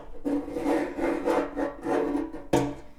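A steel scribe drawn across a Harley FXR gas tank along a flat template gives repeated close scraping and rasping strokes, several in a row, ending in a sharper scratch.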